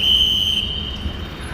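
A single steady whistle blast rings out loud and close, holding one high pitch for over half a second before fading into a quieter sustained tone over low background rumble.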